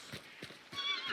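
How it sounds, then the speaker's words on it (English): A horse whinnies over a few clip-clopping hoof beats, a short, fairly close burst of neighing with no speech. "Damn horse."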